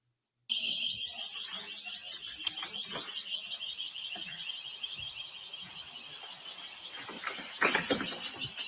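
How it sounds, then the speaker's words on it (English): Store alarms ring during a robbery, a loud, shrill, continuous electronic alarm that starts abruptly and keeps sounding, with scattered clatter and background commotion beneath it. "The alarms are going off."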